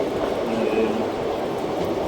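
Passenger train 54551 on the Ambala Cantt–Bathinda line runs near Patiala, giving a steady, even rolling rumble with a constant wash of noise throughout.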